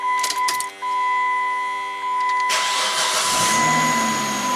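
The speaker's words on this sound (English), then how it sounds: "So so let's crank it over now." A no-start car's engine cranks over without firing, a steady mechanical whir that begins abruptly partway through after a quieter stretch with a constant electrical hum, then continues loud and close to the end.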